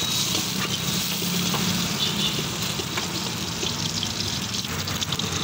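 Eggs and vegetables frying for chilli Manchurian, a dense, continuous sizzle and crackle with faint stirring, even in loudness throughout.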